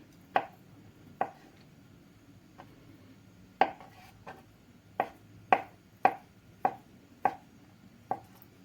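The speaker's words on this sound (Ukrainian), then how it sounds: "І нарізаю їх на четвертинки ось такими шматочками." Sharp knife strokes on a cutting board, quartering boiled eggs, about ten distinct chops at an uneven pace, close and clear with no talking.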